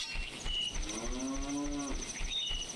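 A cow moos in an Ocarina of Time/Majora's Mask randomizer video game, one drawn-out, close, clear low call. It sits over steady ambient game music with light chiming tones.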